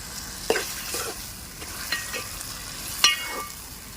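Chopped tomatoes with salt fry in a pan for a tomato egg curry, a loud, steady sizzle broken by a few scraping strokes of a spoon stirring them around.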